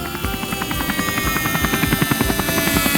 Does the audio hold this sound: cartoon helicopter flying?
yes